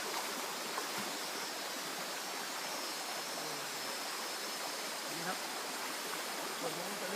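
Water flowing in a stream at a waterfall, a steady broadband rush that stays constant and fairly close throughout, with faint low voices now and then underneath.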